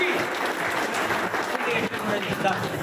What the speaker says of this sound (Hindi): भरपूर तालियां होनी चाहिए उसके लिए